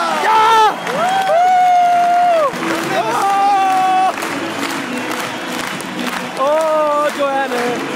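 Football crowd at Esbjerg Stadion during Esbjerg versus Sønderjyske, with loud cheering, whoops and shouting voices rising in bursts over a continuous stadium roar, nearby people calling out.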